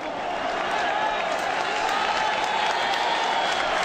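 Thousands of supporters in a football stadium in Rabat applauding and cheering at the end of a match, a dense, steady roar of clapping heard from within the crowd throughout.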